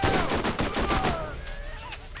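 Rapid bursts of gunfire from a gun in the video game Borderlands, loud and close, with quick shots overlapping into a fusillade amid ringing game effects.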